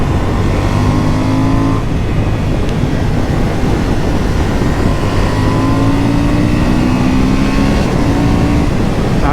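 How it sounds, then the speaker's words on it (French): A Honda Hornet 750 motorcycle accelerating hard with quickshifter gear changes, a loud close engine whine climbing in pitch, briefly cut at each quick upshift. "Ah, le shifter il fonctionne bien."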